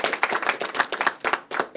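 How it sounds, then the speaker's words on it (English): Close, rapid hand clapping from an audience at a public safety press conference, a dense run of sharp claps lasting under two seconds. "Can we give him a round of applause?"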